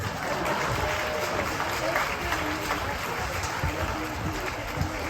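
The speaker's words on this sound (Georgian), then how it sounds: "ნახე რა ტაშია" An audience claps loudly and continuously for a song, a dense, even wash of applause with voices mixed in.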